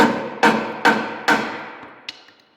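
Three loud, evenly spaced hammer blows ring out on an old auger to knock off peeling layers, each hit leaving a long metallic decay, followed by one fainter tap.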